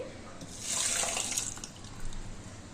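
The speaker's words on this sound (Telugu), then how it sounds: "ఇట్లా కొంచెం నీళ్ళు వేసి ఇంకా పప్పులో పోసేసేయండి." Cold water runs from a tap into lentils for a pressure cooker, a close, bright gush that swells for about a second, then eases into a softer second splash, with no talking.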